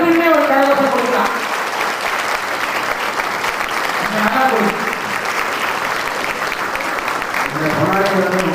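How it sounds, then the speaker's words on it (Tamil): Audience applause filling a hall, dense and sustained clapping throughout, with a voice speaking over it at moments. "எல்லாருமே எனக்குமே ஒரு கரகோஷம் கொடுக்கலாம்"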